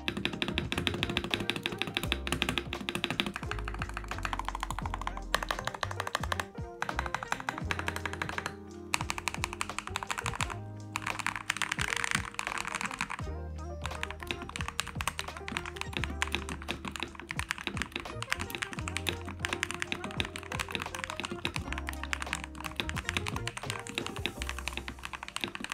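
Typing on a hot-swap gaming mechanical keyboard with a slight rattle, a dense rapid stream of close clacky keystrokes with some heavier thunks, continuous and alone for the whole stretch.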